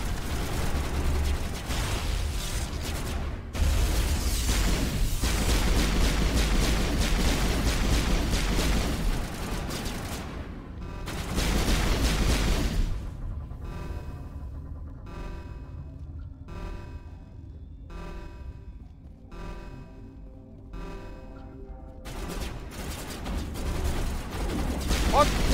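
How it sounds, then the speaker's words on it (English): Rapid gunfire erupts in the video game Mass Effect, loud bursts and sustained crackling shots mixed with mechanical clatter, easing into sparser repeated pops before the firing swells again; a voice speaks faintly at times. "Why are they all shooting me?"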